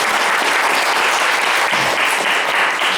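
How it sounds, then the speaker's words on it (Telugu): Audience applause at a Telugu devotional discourse on a classic poem, steady dense clapping filling the whole stretch, loud and continuous with no pauses. "ఒక్కసారి చప్పట్లు కట్టుకుని"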